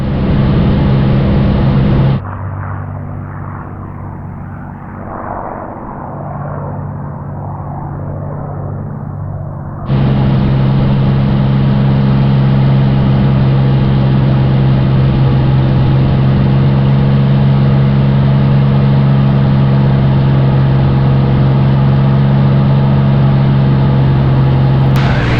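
Twelve-cylinder aircraft engines of a P-38 Lightning and a P-51 Mustang flying in formation drone loudly and steadily, a sustained near roar that dips briefly early on before swelling back to full power for the rest of the clip.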